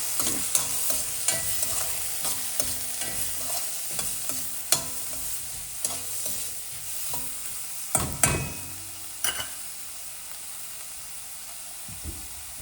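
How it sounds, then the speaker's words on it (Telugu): Onions frying in oil with turmeric for a bottle gourd and black-eyed bean curry, a steady close sizzle punctuated by irregular scraping and clacking stirs of a spatula against the pan. "ఆనియన్ అలా వేగుతుండగా కొంచెం పసుపు కూడా ఇప్పుడే వేసేసుకుంటా"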